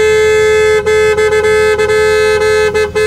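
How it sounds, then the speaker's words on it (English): A Winnebago motorhome's horn blares loud and close in a long sustained honk, broken by several brief gaps, on a Labor Day weekend outing. "You think I should honk some more?"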